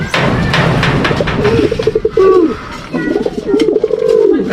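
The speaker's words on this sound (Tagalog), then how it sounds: "Nanginginig pa mga kalapatids." Pigeons cooing loudly and close in the rain, repeated rolling coos over a clatter of rain and fluttering.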